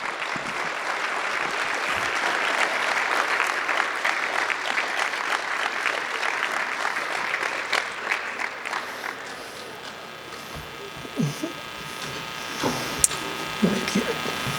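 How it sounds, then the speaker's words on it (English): Audience at a diocesan celebration applauding an honoree, sustained full clapping for about nine seconds before it dies away into room noise, shuffling and a few scattered sounds. "Let's give Mary Anne a round of applause."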